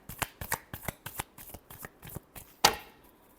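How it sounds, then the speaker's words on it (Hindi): Tarot cards are shuffled by hand in quick, crisp riffling bursts, about a dozen close, quiet rhythmic flicks ending in one sharper snap. "last shuffle"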